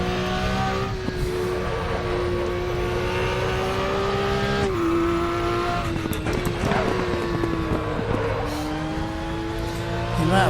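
A race car laps Bilster Berg in RaceRoom, its engine droning loud and steady from up close, pitch dipping at shifts and braking, with bursts of tire squeal and bumps as the back end slides.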